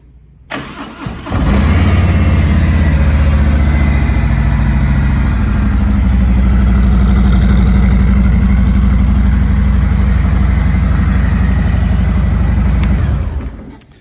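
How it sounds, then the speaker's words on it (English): A 2020 Harley-Davidson Road Glide Special starts up indoors, then its engine runs loud, close and steady at a deep, throbbing idle for about eleven seconds before it shuts off. "we'll just start this for a second so you guys can hear this bike run"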